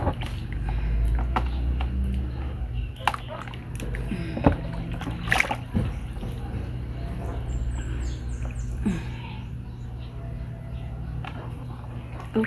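Hot water is poured over a chicken to loosen its feathers: a steady, rushing slosh and splash runs throughout with a low background hum, and scattered clatters and knocks break in while people talk nearby.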